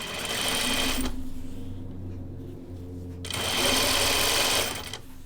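A sewing machine stitches a folded pajama top in two close, steady bursts of about a second each, with a quieter pause between them and no talking.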